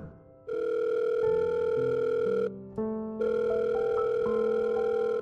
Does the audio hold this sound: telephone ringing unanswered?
yes